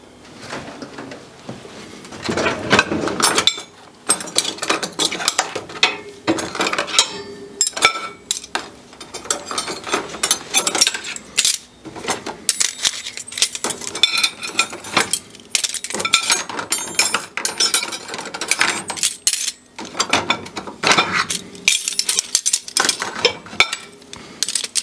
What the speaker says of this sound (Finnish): Astianpesu on muuten käynyt. Pitääpä tyhjentää.